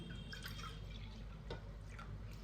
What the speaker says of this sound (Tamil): இந்த அரிசியும் பருப்பையும் களைஞ்சி எடுத்துட்டா விட்டு சரியா 4 பங்கு ஜலம் ஊற்றணும்.